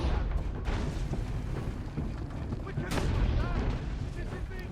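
Heavy cannon blasts from two tanks in Assassin's Creed Brotherhood fire in a loud game arena, dense booming bursts over a rumbling battle bed, with a sharp crack near the three-second mark.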